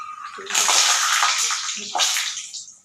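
Peanuts frying in hot oil, a loud broadband sizzle and crackle that surges twice, first building strongly and holding, then flaring again before easing off, with no talk over it.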